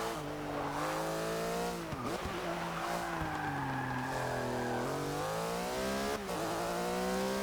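A Porsche racing car in Forza Motorsport 6 roars steadily near and loud, its engine pitch rising and dropping through gear changes while tires squeal and skid through corners, with no talk.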